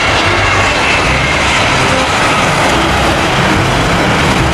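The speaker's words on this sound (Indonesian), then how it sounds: "ternyata pesawat adik-adik, pesawat mini" A loud, steady airplane engine roar used as a sound effect for a mini toy plane, a continuous broadband drone with no breaks and no talking.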